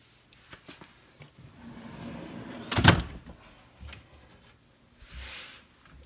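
A craft room cupboard opens and a pull-out shelf slides out, with soft clicks and rubbing followed by one sharp knock, then quieter shuffling.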